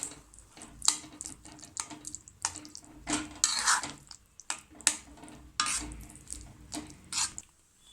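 Egg gravy in a pan being stirred after powdered fried onion is added: repeated close scraping strokes of a spoon in an irregular rhythm, with soft wet squelches and no one speaking.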